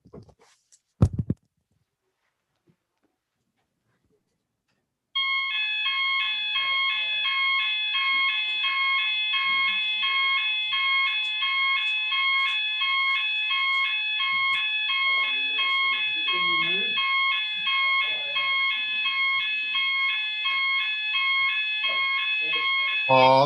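A fire alarm goes off in a council chamber during a meeting break, a loud continuous electronic tone that starts abruptly and holds steadily, with faint voices murmuring underneath.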